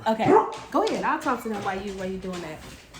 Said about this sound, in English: sorry, y'all, that's our dog.